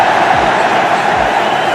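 A huge stadium crowd at a 2005 India vs Pakistan one-day cricket match roars steadily after a boundary, a dense, loud, unbroken wall of cheering throughout.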